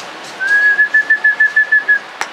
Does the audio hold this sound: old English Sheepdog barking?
no